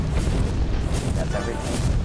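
Weapons fire and explosions in the Infinifactory game form a loud, continuous barrage of booms and heavy rumbling, dense and unbroken, with a voice faintly beneath.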